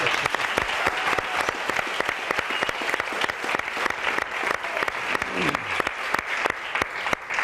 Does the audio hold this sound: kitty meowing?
no